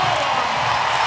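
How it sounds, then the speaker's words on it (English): A dense, steady roar of a large crowd cheering at the CrossFit Games during the women's event, loud and continuous throughout with no pauses. "The crowd getting behind her."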